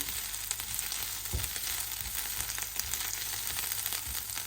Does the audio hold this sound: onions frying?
yes